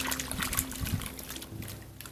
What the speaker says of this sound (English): we'll take the starter and we'll just mix it with the water